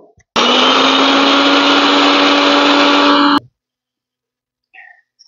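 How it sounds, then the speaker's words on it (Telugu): A kitchen mixer grinder whirs loud and steady for about three seconds, grinding cumin, fenugreek and garlic to a powder for ginger chutney, then cuts off abruptly into near silence with a faint clink afterward. "ఫస్ట్ ఇవి ఒకసారి మిక్సీ పట్టుకుందాం కొంచెం పౌడర్ అయ్యేంత వరకు."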